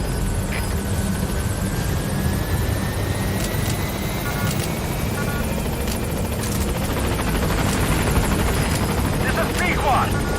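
Pequod helicopter in a Metal Gear Solid V game, its rotor and engine droning steadily and loud throughout as it arrives at the landing zone, with a radio voice speaking over it.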